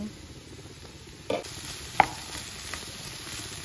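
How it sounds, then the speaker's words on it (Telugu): Beetroot and coconut being stirred and fried in a pan, with a quiet steady sizzle under occasional scraping knocks from the spoon, one sharper clack near the middle. "అంతా బాగా ఇలా కలుపుకుంటా ఉండాలా, బాగా ఫ్రై చేయాలా"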